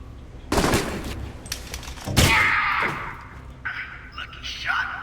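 Gunshots at shooting range targets in the video game Alpha Protocol ring out as a few loud, separate shots with echoing tails, followed by game sounds and a voice speaking.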